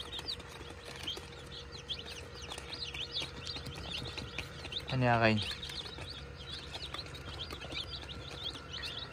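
Young chicks peep and cheep in rapid, faint bursts throughout, under a voice speaking, with a short rattling knock partway through.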